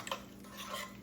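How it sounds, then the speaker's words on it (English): A spoon stirs tomato paste into tortellini soup in a cooking pot, producing a few faint, soft clinks and scrapes against the pot over about a second, with no voices. "We're going to stir that in."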